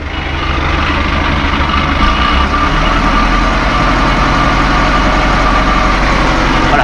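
A tractor engine runs at a steady 1500 rpm while spreading base fertilizer for sunflowers. The loud, constant mechanical drone has a deep rumbling low end, with no voices.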